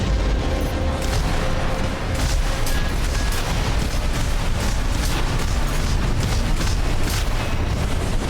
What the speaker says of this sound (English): Big explosion. I see it.